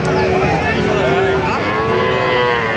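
A cow at a cattle market gives one long, loud, close moo that bends in pitch, with faint crowd murmur behind it.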